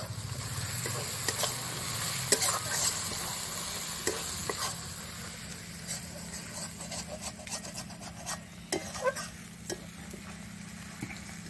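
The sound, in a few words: chicken curry frying and stirring with chilli powder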